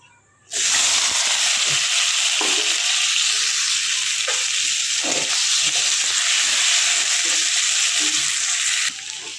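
Potatoes dropped into hot oil burst into a loud, sudden sizzle that holds steady and close for several seconds before easing slightly at the end.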